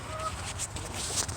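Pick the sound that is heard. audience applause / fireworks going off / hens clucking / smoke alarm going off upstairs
hens clucking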